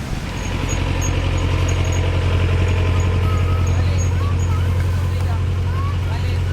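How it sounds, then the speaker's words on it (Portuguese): A garbage truck idles nearby with a loud, steady low engine drone that hums on without a break, while faint voices sit in the background. "Caminhão de lixo"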